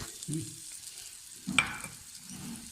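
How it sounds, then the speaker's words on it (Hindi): Chopped onion sautés in melted butter in a wok, giving a soft low sizzle with stirring scrapes and a sharp clink of a utensil partway through, close and quiet. "हम इसमें अपनी एक मीडियम प्याज जो चॉप की थी वो डाल देते हैं"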